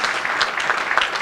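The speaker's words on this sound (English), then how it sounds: "we can give a round of applause for that." A brief burst of dense applause from wedding guests during a maid of honor speech, steady and fairly close, with no talking over it.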